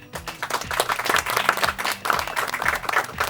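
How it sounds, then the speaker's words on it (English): An audience applauds quiz teams at a semi-final, a steady burst of many clapping hands, close and fairly loud, with a faint musical bed beneath. "let's give them a big round of applause"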